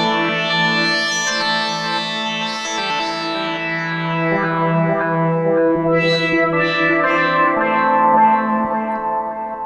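A Delia synthesizer plays sustained, rich chords and melodic tones drenched in a nice reverb effect, with echoing tails blending across about ten seconds, loud and alone without any talking.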